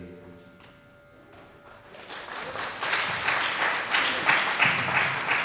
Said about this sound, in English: definitely a round of applause